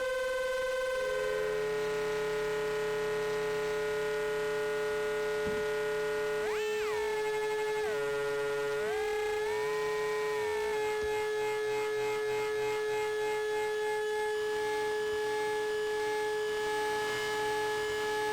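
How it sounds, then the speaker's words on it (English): A Klavis Twin Waves MK2 dual oscillator, cross-modulated, makes a steady buzzing drone with a swooping, warbling pitch in the middle, harsh and throbbing like a siren, continuing as a dense electronic hum. "now I'm also cross-modulating it, so the second oscillator is getting some modulation action from the first oscillator"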